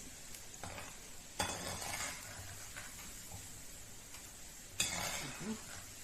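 Cauliflower for restaurant-style gobi manchurian fries in oil with a quiet, steady sizzle, broken by a couple of sharp scrapes and clinks of a spoon against the pan.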